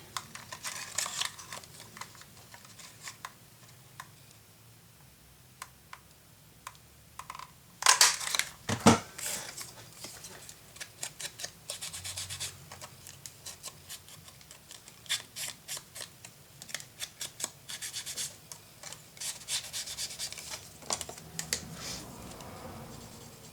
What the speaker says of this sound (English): Make my marks and then cut the marks away.